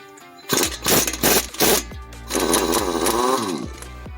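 Power tool whirring in short bursts while loosening a nut and knuckle bolt on a Ford Escape wheel bearing assembly, several loud pulses followed by a longer sustained run, close up.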